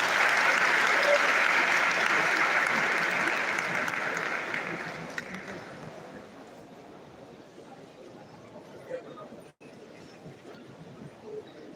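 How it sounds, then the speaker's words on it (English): Audience applause fills a hall at an induction ceremony for newly qualified doctors, loud and dense at first, then thinning and fading over the last half into scattered claps and room noise. "Please allow us applause for this activity"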